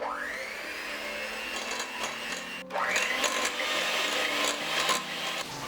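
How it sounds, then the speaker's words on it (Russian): Electric mixer whipping vegetable oil until pale for a curd pie, a steady high whirring motor drone that briefly cuts out and restarts, running continuously with no talk. "нам нужно масло взбить до побеления"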